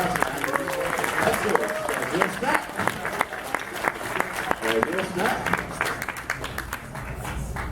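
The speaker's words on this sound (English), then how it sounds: "Round of applause for two wonderful volunteers who will be handing out index cards." A live audience at an evening event applauds two volunteers as they come forward to hand out index cards; steady clapping runs throughout with a crowd murmur and talk over it.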